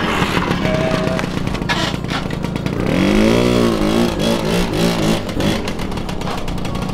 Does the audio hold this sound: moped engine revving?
yes